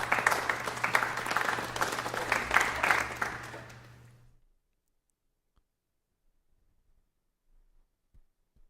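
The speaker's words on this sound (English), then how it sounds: "Everyone loves this sound of applause" A canned applause sound effect played during a live stream: a crowd clapping at moderate volume for about four seconds over a low steady hum, then cutting off into near silence broken by a few faint clicks.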